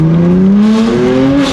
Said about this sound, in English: Oh yeah, it has a little rev match.